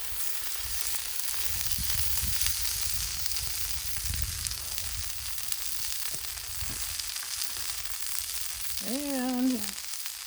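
Okra pieces fry on a hot griddle in avocado oil, a steady broadband sizzle running the whole time, with a brief unrelated tonal sound near the end.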